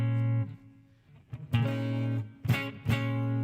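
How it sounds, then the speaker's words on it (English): Sustained electric guitar chords ring out with a washy reverb tail, struck a few times with brief pauses between strums. "I've got some more reverb on that."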